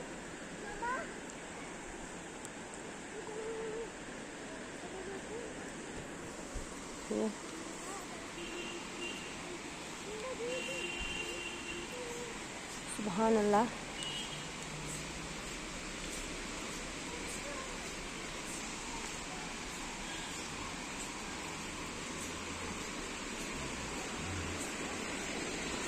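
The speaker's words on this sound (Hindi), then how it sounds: "आप देख सकते हैं चश्मा कैसे उबल रहा है।" Spring water at Verinag in Kashmir bubbles and flows in a steady, soft rushing wash, with someone speaking briefly over it and a few faint nearby sounds.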